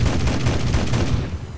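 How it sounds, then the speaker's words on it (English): A Soviet tank's 37mm cannon firing rapidly in War Thunder, a loud, dense run of booming shots close together, then trailing off into a fading rumble. "This thing has a 37mm cannon, but it fires like this."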